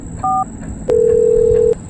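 A telephone number keyed in on a phone keypad: a short touch-tone beep, then a longer steady tone, loud and close with no talk.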